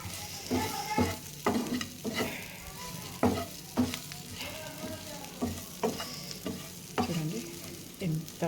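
Chicken fry sizzles in a pan while being stirred, with a continuous close hiss punctuated by frequent scraping and clanking strokes of a spoon, and no voices.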